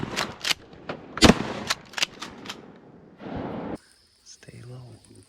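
Shotgun blasts during a youth duck hunt in Wisconsin marsh, several sharp loud reports in quick succession including one very strong near shot, with hushed talk between and after the firing.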